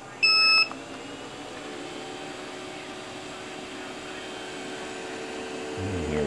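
Creality CR10 S4 3D printer touchscreen powering on, with a brief electronic beep at start-up followed by a faint steady hum and a thin tone.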